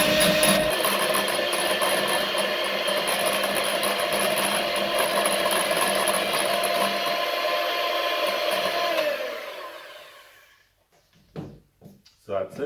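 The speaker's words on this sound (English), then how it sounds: "And by creaming it, I mean just mixing it until it is pale and fluffy." An electric mixer creams very soft butter until pale and fluffy for spiced Guinness cupcakes: a steady, close motor whir for about nine seconds, then it stops, leaving a few light knocks.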